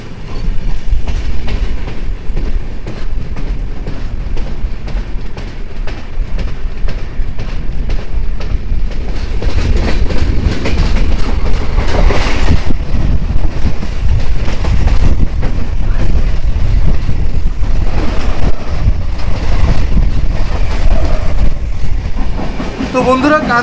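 Heard from on board, the Kanchan Kanya Express runs at full speed with a loud, continuous rumble, rhythmic wheel clatter over rail joints and rushing wind. A voice is faintly audible beneath the noise.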